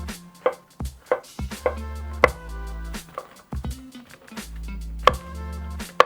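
A knife chopping mushrooms that will go into a pancake filling: a steady run of firm board knocks, close and clear, with no voices.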